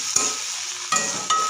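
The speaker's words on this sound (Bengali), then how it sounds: "তখন একটু চিনি দিয়ে নাড়িয়ে খানিকক্ষণ রেখে আবার" Cabbage and sugar being stirred in a pan, a continuous close sizzle of frying broken by three short scraping strokes of the spoon.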